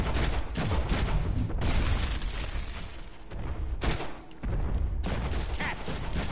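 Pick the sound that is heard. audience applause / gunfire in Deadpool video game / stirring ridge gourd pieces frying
gunfire in Deadpool video game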